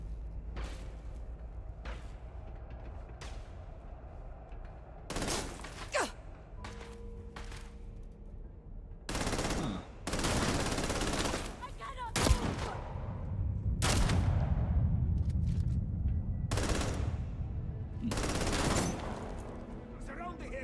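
Weapons fire in the video game Starfield: Shattered Space comes in repeated loud bursts of rapid gunfire separated by quieter gaps, while in-game voices speak between the volleys.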